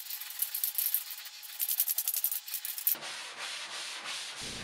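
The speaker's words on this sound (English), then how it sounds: "I grabbed my 220 grit sanding sponge just to give it a quick sand before starting painting it black" A 220 grit sanding sponge rubs over a painted dresser in quick back-and-forth strokes, a steady scratchy rasp close by that gives way to softer rubbing near the end.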